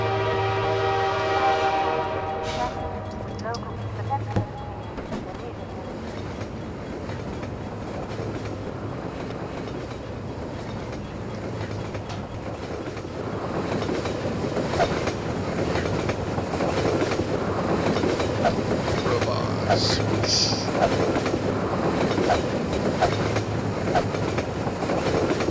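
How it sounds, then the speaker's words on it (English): A train in Half-Life 2 sounds its horn at the start, then rolls past with rising rumble and steady clickety-clack of wheels on rails, loud and close for the whole stretch. "That's our train."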